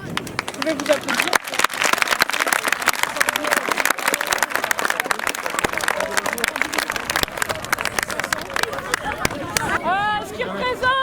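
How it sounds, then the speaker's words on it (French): A crowd at a charity cross-country run claps steadily and applauds itself, dense and loud, with chatter and cheering woven through and a voice over a loudspeaker. "Vous pouvez vous applaudir."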